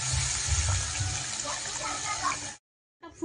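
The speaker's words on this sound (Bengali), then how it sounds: "এবার জল দিয়ে দেবো।" Water is poured into a thin, soupy vegetable curry on the stove. It is a loud, steady gushing pour lasting about two and a half seconds, then it stops abruptly, followed by a short clatter.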